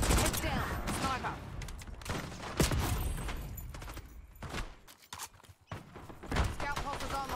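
Sniper gunfire and battle noise in a war video game, with scattered sharp shots over a dense, loud, continuous din and voices talking throughout.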